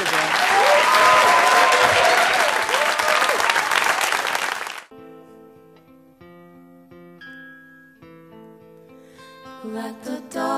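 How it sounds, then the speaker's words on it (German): A studio audience at an FM4 Studio 2 live session bursts into loud, dense applause for several seconds before it cuts off and gives way to music. "Und der Applaus, der jetzt kommt, der gehört euch"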